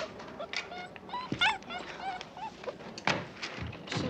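A dog whimpering and yipping indoors in short, high, plaintive cries scattered across the moment, with a few thuds and faint background noise.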